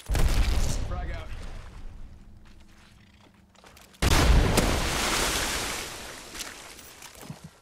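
A frag grenade goes off in the video game Apex Legends as a single loud, close boom partway through, followed by a long rumbling decay. Gunfire and game noise come before it, and a voice talks nearby.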